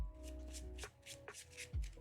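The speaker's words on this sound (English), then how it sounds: "so those are gonna go and get shuffled." Playing cards shuffled by hand during a Marvel Champions card game, a few brisk riffling bursts close to the microphone over a steady low hum, with no talking.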